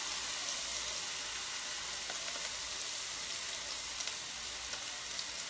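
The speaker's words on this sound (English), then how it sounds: "So we're sauteing one pepper" One pepper sauteing in olive oil in a pan: a steady, even sizzle and crackle of frying throughout, with a few small pops, moderately quiet and without voices.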